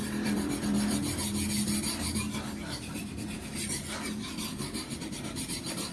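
Steady gritty scraping of a well-used kitchen knife drawn repeatedly across a fine, hard Bogor sharpening stone, close up and rhythmic, with no voices over it.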